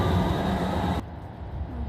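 Steady rumbling train noise fills the space, then shifts abruptly to a quieter, lower hum as the carriage sound changes.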